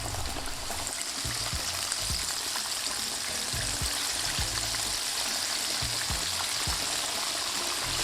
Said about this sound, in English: Now this goes straight into the hot oil.